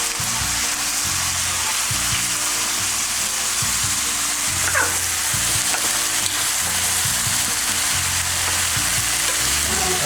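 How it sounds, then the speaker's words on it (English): Green beans and sausage fry in a pan with a loud continuous sizzle, while a utensil stirs and scrapes them in a steady repeating rhythm. "I'm gonna add the green beans right here with the sausage, and I'm gonna mix it together."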